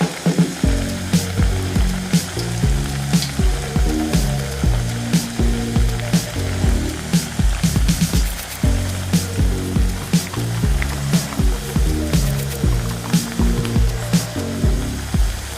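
Bottle gourd and rice flour appalu fry in hot oil, giving a loud, steady sizzle with constant bubbling and crackling from start to finish.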